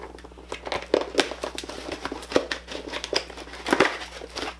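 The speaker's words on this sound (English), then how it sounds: "So we're gonna pop it open and not cut myself on camera and see exactly what's inside." Crinkly plastic packaging on a collectible toy crackles and rustles in quick, uneven bursts as it is handled and pried open up close, with no talking.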